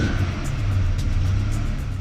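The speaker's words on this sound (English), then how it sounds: "The Cuda driver revs his engine." A Plymouth Cuda's engine held at a steady, loud rumbling idle-rev up close, low and continuous throughout with little rise in pitch, no voices over it.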